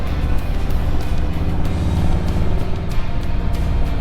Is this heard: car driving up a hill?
yes